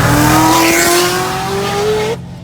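A 1000-horsepower Chevrolet Corvette Z06 accelerates hard and close, its engine note climbing steadily in one long loud pull with a hint of tire squeal, then cutting off abruptly.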